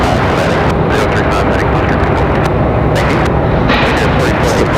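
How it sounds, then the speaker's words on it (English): Loud airplanes at Raleigh Durham airport roar close by in a heavy, continuous wash of engine noise, with a voice talking underneath. "It's the planes that are really loud."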